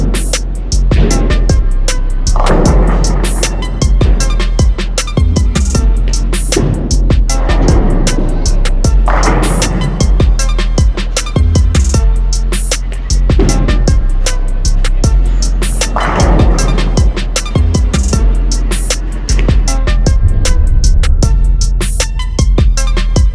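Bowling balls are thrown one after another and roll down the lane, each a loud rolling rumble ending in a sharp crash. The pattern repeats several times, close by, with no talk.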